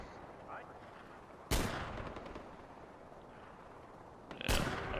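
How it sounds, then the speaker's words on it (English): Two loud, sharp hand cannon blasts in a video game, about three seconds apart, each with a short ringing tail over quiet ambience. "the hand cannon, I think it takes 3 shots to kill these dudes"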